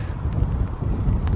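Wind gusts across Lin Brook lake on a rainy spring day at a carp fishing spot, a loud, continuous low rumble of buffeting air against the microphone.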